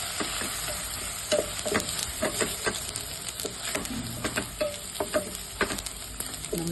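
Chana masala frying in a pan with coriander, turmeric and chili powder gives a steady close sizzle, broken by scraping stirring strokes throughout, with no talk.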